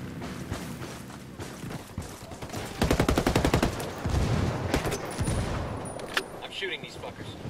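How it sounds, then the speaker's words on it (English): Rapid bursts of automatic gunfire rattle in Ghost Recon Wildlands, with a dense volley in the middle and scattered shots around it against ongoing game background noise. "I'm shooting these fuckers."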